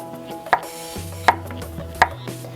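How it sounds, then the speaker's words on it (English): A knife slices eggplant into thin circles on a board, three crisp, evenly spaced chops close up over a low steady hum. "just cut them thin into little circles so that they're thin but still thick enough to grill without breaking apart"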